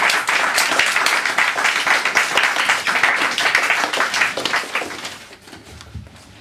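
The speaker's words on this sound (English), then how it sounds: "More applause for Angela Jones." Sustained audience applause at a Christmas stage show, a loud dense wash of many hands clapping that holds steady for several seconds before gradually thinning out and fading.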